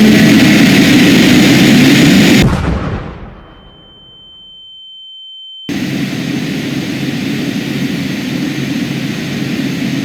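Engines of a Carenado King Air B200 turboprop in MSFS 2020 roar loud and steady, cut off abruptly into silence with a faint tone, then resume at a slightly lower level.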